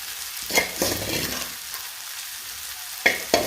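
Soybeans frying in a pan for a Kerala-style curry, a soft steady sizzle broken by a few scraping stirs near the start and end, close up with no talking.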